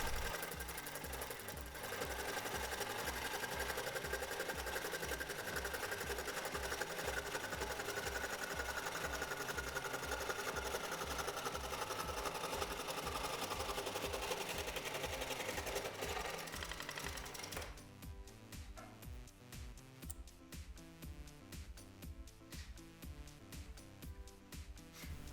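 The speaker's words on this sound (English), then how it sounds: "And then I take it over to my scroll saw to cut out, I guess, the distance between." A scroll saw cuts through wood while building a reclaimed Roubo woodworking bench, a steady rapid mechanical buzz running loud and continuous for most of the clip, then dropping to a lighter rattling chatter near the end.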